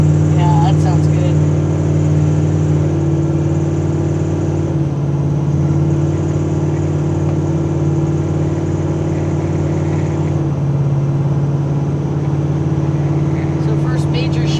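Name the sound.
1983 Chevy C10 custom truck exhaust revving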